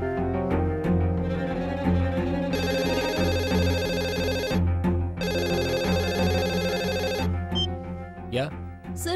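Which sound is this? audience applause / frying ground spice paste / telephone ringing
telephone ringing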